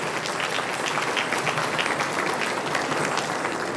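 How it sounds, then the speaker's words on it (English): A gala audience in a banquet hall applauds continuously, a thick, even roar of many hands clapping at fairly close range with no talking. "Let's give another round of applause for Ananya."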